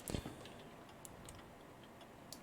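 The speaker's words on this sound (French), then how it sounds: "Pendule d'horloge." A clock pendulum ticks in the horror game Resident Evil 7, faint and distant, with a few sparse light ticks over a low hiss after a brief thump at the start, and no talking.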